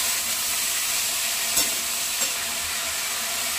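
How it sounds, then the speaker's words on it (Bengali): Steady, loud sizzling of pumpkin frying in a pan, with a couple of faint scrapes from stirring. "কুমড়োটাকে খুব ভালো করে নাড়িয়ে নেব, নাড়িয়ে এটাকে ভাজা ভাজা করে নেবো পুরো"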